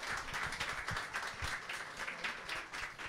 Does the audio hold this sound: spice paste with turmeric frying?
no